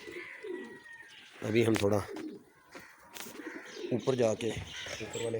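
Pigeons coo in repeated low throaty bursts from a rooftop loft, including a black home-bred bird, while someone talks over and between the calls.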